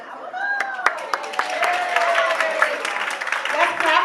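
An audience claps for Black businesses that donated gift cards at a women's mental health session, scattered sharp claps rising into steady applause, moderately near, with voices and chatter mixed underneath.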